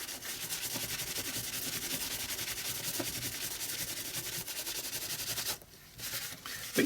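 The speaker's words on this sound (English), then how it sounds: "I'm just using a little piece of tissue. I'm not rubbing really heavily." A small piece of tissue rubs gently over a three-dimensional metallic artist trading card, making a faint, steady, soft scratchy swishing with a brief pause near the end.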